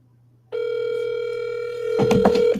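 A steady telephone dial tone drones alone on a call for about two seconds, then rustling and handling noise briefly mix in near the end.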